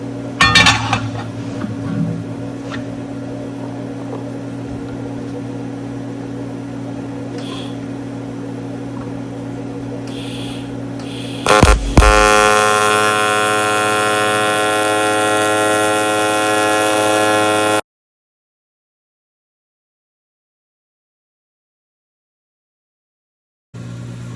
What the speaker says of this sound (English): Okay, well, it should be all welded there.